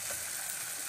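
Ginger and garlic frying in a pan give a faint, even sizzle, a soft continuous hiss heard close with no voices.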